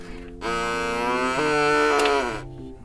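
A cow gives one long, loud, close moo lasting about two seconds, shifting pitch midway and fading at the end, with no other sounds around it.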